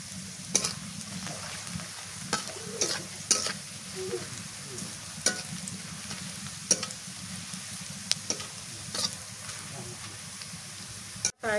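Spices and aromatics fry and get stirred in a pot over a clay stove while cooking Old Dhaka style rooster pulao, a steady sizzle broken by repeated sharp scraping strokes of the spoon, close and moderately loud.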